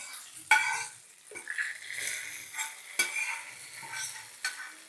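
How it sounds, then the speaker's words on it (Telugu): Bajji fritters frying in hot oil in a kadai, a steady sizzle with stirring and utensil scrapes against the pan, clinks and knocks punctuating the bubbling, close by with no talking. "ఇంక ఈ కళాయిలో బజ్జీలు కూడా వేసేసుకుందాం"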